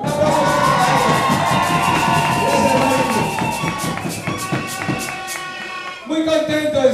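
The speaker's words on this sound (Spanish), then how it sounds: "Un aplauso." At a political rally, a crowd cheers and shouts loudly, with scattered applause, then the noise thins out and a voice begins to speak over the fading din.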